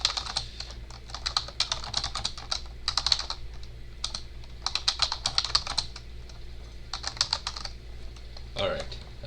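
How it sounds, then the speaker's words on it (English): Fast typing on a computer keyboard during Python coding in IDLE, crisp close key clicks in bursts separated by short pauses, with a brief thump near the end. "I just typed some random stuff."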